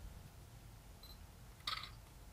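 Camera shutter firing once on a tripod-mounted rig outdoors, a short sharp click near the end of the clip over steady low background rumble, with a faint electronic beep just before it.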